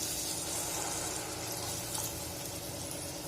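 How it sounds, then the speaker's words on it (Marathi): Half a glass of water poured into a hot pan of frying peas and onions, giving an even, continuous rushing hiss from start to finish. "अर्धा ग्लास मी फक्त पाणी टाकणार आहे"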